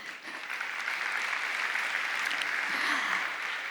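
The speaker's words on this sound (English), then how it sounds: "A round of applause, please." Sustained applause from a conference audience at Blockchain World Abu Dhabi, a dense steady patter of clapping that fills the room throughout.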